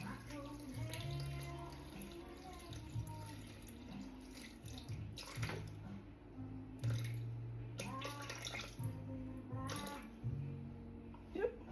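Cold tap water poured into a Thermomix bowl while making butter, a continuous splashing trickle with brief pauses and intermittent clinks, close by.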